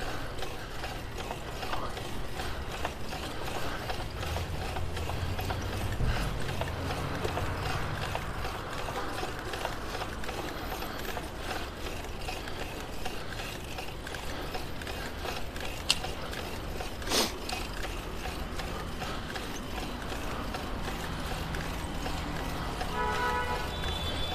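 A bike's gears checked on a New York City street, with continuous ticking and clicking of the mechanism over loud, steady outdoor background noise and a couple of sharp clacks.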